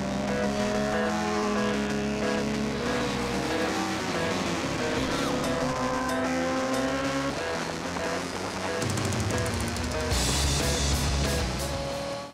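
A KTM RC8 1190 sport motorcycle, 155 hp, screams at high revs down the long straight of the Mugello circuit, its engine note loud and continuous with a sharp rise in roar near the end.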